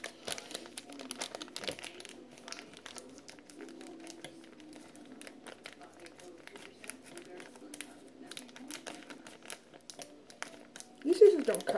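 Soft crinkling and rustling of a plastic cheese bag being opened continues steadily, with small clicks and handling noises throughout and a slightly louder rustle near the end.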